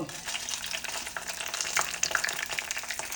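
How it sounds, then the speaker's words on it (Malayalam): Loud, continuous sizzling and crackling of chilies frying in hot oil, with scattered pops and occasional stirring. "എണ്ണ ചൂടായി ഇനി മുളകൊക്കെ ഇട്ട് കൊടുക്കട്ടെ കേട്ടോ"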